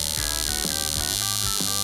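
A spark plug tester firing an iridium spark plug gives a steady buzzing hiss with regular rapid snapping clicks, close and continuous, with no speech.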